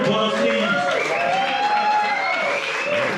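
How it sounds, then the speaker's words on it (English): An audience at a crypto conference event claps in a loud, continuous wash of applause, with crowd voices and cheering mixed in throughout. "give round of applause, please."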